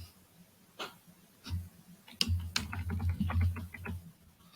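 Someone types on a computer keyboard, giving a run of quick, crisp key clicks in uneven bursts, with a few louder taps near the middle. The clicks are close and fairly quiet, with no voices heard.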